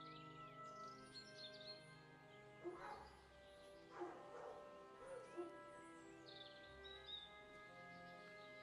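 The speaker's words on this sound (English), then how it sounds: "You hear the dog barking in the back of the sound." A dog barks in the background of a tabletop game session, a few faint, distant yips spaced a second or so apart, heard under a low electronic hum and soft ambient tones.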